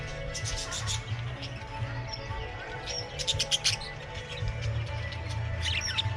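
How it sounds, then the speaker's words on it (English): Budgies twitter and chirp in quick, high bursts, nearby and moderately loud, over a low background hum. "there's some little birds here actually. Don't know what they are. Budgies, is it?"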